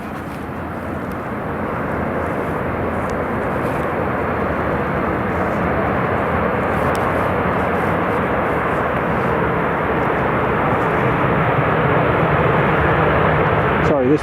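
A Jet2 passenger airliner at Newcastle airport, a steady loud engine roar that swells slightly and holds for the whole stretch, with no voices over it.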